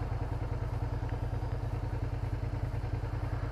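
Jessica's scooter engine runs steadily nearby, a rapid, even low putter with a faint rattle and no pauses throughout.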